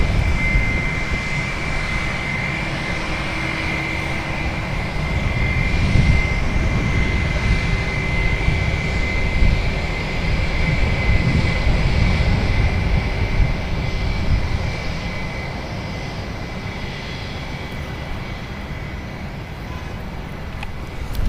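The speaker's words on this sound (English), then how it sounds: "We have American Airlines Flight 16, going to be departing to JFK. It's an Airbus A321, 9 years old." An American Airlines Airbus A321 jet departs San Francisco International Airport, its engines a sustained broadband roar with a steady whine on top, swelling and easing slowly over about twenty seconds from a moderate distance.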